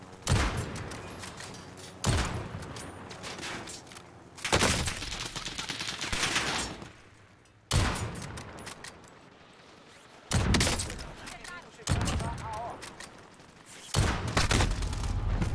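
Bursts of Call of Duty: Warzone gunfire come in repeated volleys roughly every two seconds, loud and sharp with brief quieter gaps between them.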